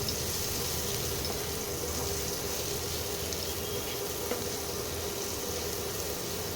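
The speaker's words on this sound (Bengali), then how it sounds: "এবার রসুনের কিমাটা একটু ভাজা ভাজা হোক।" Minced garlic frying in melted butter in a pan, a soft continuous sizzle and hiss held at an even level throughout, with a faint tap or stir now and then and no talking.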